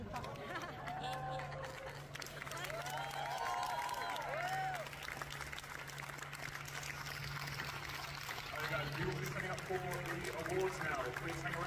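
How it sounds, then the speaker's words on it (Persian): An audience at a Rubik's cube competition claps for the winners in a soft, fairly distant patter that runs under a speaking voice and background music for most of the stretch. "تشویق حضار رو مشاهده میکنیم"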